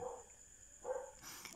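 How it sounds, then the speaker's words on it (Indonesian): Two short dog barks, a moderately close burst at the start and another just before the midpoint-late section, heard indoors at a low level with some faint background noise and no talking. "Maafkan ya kalau ada suara anjing menggonggong ini."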